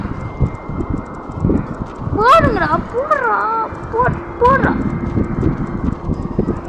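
Horse hoofbeats from the video game Fun Battle Simulator, a rhythmic clip-clop under loud shouting and excited talk amid battle noise.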